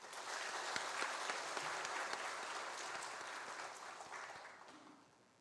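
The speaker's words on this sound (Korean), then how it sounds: "한 번 더 박수하도록 하겠습니다" A Korean church congregation applauds again after the choir's hymn at a Sunday service, a full room of steady clapping with a few sharper claps standing out, holding evenly and then tapering off at the end.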